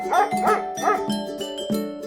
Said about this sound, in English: Sam, my sheepdog, notices the lamb and barks to get Sarah over